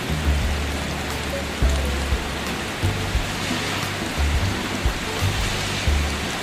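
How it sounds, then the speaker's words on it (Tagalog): Heavy rain pours steadily, a dense hiss of drops drumming on a surface, with occasional low thumps, close and continuous, at a campsite by Bagsit River, Palauig, Zambales. "Medyo malakas yung ulan."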